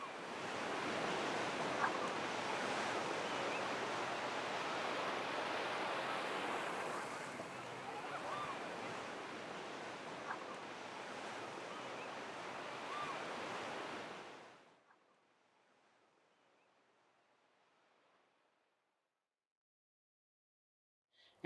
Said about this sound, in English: there's also something about that action of water, the tidal action, the ebb and flow, the waves